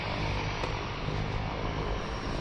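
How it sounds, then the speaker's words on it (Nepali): A seaplane flies over Victoria harbour in British Columbia, Canada, its propeller engine droning steadily and fairly close for a couple of seconds. "सिप्लेनहरू चाहिँ यहाँबाट उड्छ"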